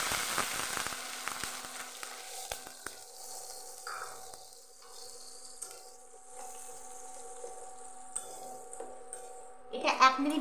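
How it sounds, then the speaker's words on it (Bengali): Onion, ginger, garlic and green chilli paste fries in a pan, a faint sizzle with a few soft clinks of a utensil against the pan and a brief burst of stirring near the end. "আদা, রসুন, পেঁয়াজ, কাঁচা লঙ্কার পেস্টটা ভাজা"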